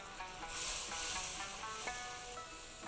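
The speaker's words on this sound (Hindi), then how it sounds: "बटर में हम भी सेक ही लेते हैं साहब" Spices roasting slowly in butter for a Kashmiri chicken rogan josh, a soft steady sizzle with a brief brighter hiss early on, quiet and continuous.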